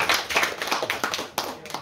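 An audience at a literary conference for young authors breaks into applause, a short burst of lively, close clapping that fades and then swells again.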